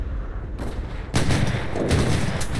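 Dense World War II battlefield gunfire from a video game, set during an Operation Market Garden event, rumbles on continuously, with a heavy blast kicking in partway and sustained booming and rattling volleys afterward.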